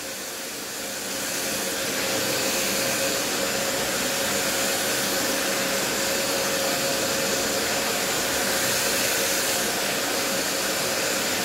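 A Parkside PWD 30 A1 wet and dry vacuum runs in blowing mode, spinning up within the first second into a steady, loud airy roar with a faint whine held constant throughout.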